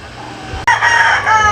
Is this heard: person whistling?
no